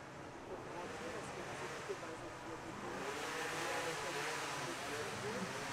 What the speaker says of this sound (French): J'ai eu le scooter qui est passé